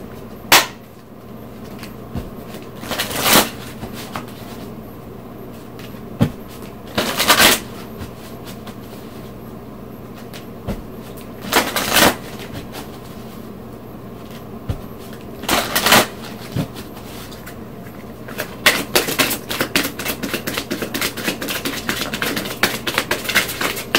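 Angel oracle cards being shuffled in several separate bursts of crisp riffling, close by, with quiet pauses in between and a longer, denser run of shuffling near the end.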